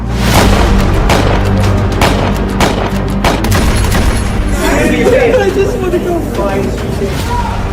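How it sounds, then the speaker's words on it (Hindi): Gunfire cracks out in a rapid burst during an attack at the Washington Hilton hotel's White House Correspondents' Dinner, loud sharp bangs followed by panicked crowd chatter and shouting voices. "अमेरिका की राजधानी वॉशिंगटन डीसी में सालाना व्हाइट हाउस कॉरेस्पॉन्डेंट डिनर के दौरान फायरिंग हो गई"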